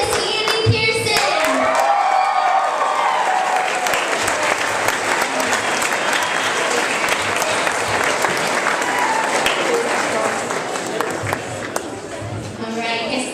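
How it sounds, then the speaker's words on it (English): A school ceremony audience breaks into loud, sustained applause mixed with crowd chatter and some cheering, with a voice speaking at the start and the clapping thinning slightly toward the end. "let's give them one more round of applause, please"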